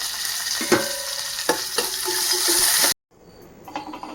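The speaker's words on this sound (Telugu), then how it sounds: "ఆయిల్ మరిగేటప్పుడే వేసుకోవాలి. ఆవాలు, కరివేపాకు, 2 ఎండుమిరపకాయలు" Mustard seeds, curry leaves and two dried red chillies sizzle in hot oil for a chutney tempering, with loud crackling pops, then the hiss cuts off suddenly, leaving faint quieter sizzling.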